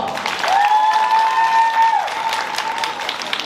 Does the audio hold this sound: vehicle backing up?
no